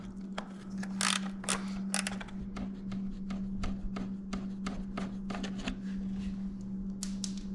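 Rapid ratchet clicks come in bursts as 10 mm bolts are backed out of the radiator on a GL1500 Honda Goldwing, close and crisp over a low steady hum, with no speech.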